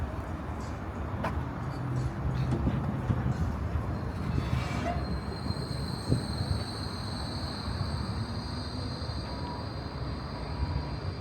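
A city tram in Basel, Switzerland, rolling past with a continuous rumble of wheels on rails, followed by a sustained high metallic squeal, fairly close, with no speech.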